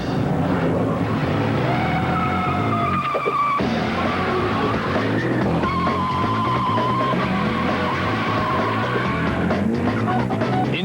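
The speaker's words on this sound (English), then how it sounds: "These illegal and dangerous drag races happen in the middle of the night on public" Illegal late-night street drag racing on public roads in Southern California, with cars roaring and revving continuously alongside squealing tires and a high engine whine, loud and sustained throughout with no talking.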